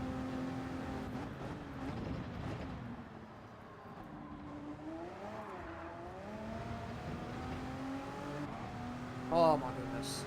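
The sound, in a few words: Audi R18 TDI race car engine in Gran Turismo 7 video game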